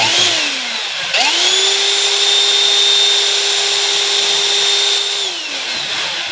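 A repaired Electrolux vacuum cleaner switches on, its motor whining up to a steady high-pitched drone that holds loud and close for several seconds before spinning down.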